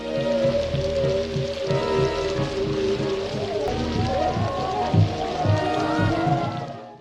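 Rain pours over a cemetery in a zombie horror film, a steady wet patter running beneath a dark, droning music score with low rhythmic pulses.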